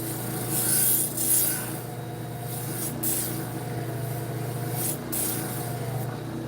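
A knife blade is worked against a spinning grinding wheel, giving a continuous gritty rasp over a low motor hum, with brief brighter scraping flares as the edge is pressed in.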